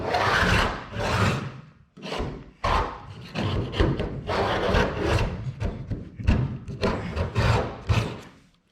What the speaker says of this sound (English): I'm just trying to get the majority of this paint off